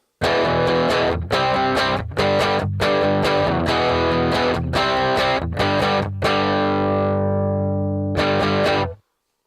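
Heavily distorted electric guitar chords through a Black Op distortion pedal, miked with an MD421, ring out in a rhythmic pattern, cut off by short breaks, then one chord sustains and fades before a final strum.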